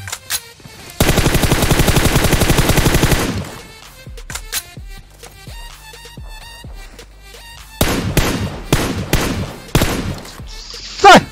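Gunfire in the video game PUBG Mobile: a sustained loud burst of automatic fire, then scattered single shots and further rapid bursts with sharp echoing reports.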